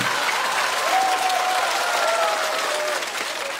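A stand-up comedy audience bursts into sustained applause, a dense wash of clapping from a large crowd that holds steady for several seconds before tapering slightly at the end.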